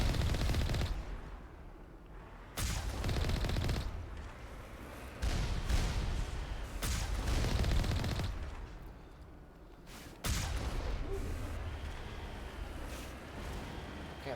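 Sustained gunfire bursts against turrets in the video game Mass Effect Legendary Edition, loud dense volleys that start and stop in several long stretches with brief pauses between them, no voices.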